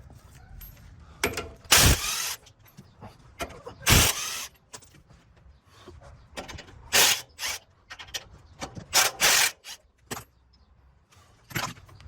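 Sway bar clamp bolts on a KDSS-equipped truck being loosened with a ratchet, heard as close, loud bursts of ratcheting clicks separated by short quiet gaps.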